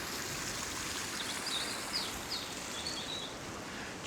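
Water flowing out of a pipe along a wild stretch of coastline, a steady broad rushing splash with no break, with faint bird calls above it.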